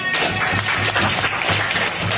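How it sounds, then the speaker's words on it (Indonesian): A classroom full of students applauds a classmate after a presentation, a dense, continuous patter of many hands clapping at once, loud and close throughout. "tepuk tangan untuk Indana"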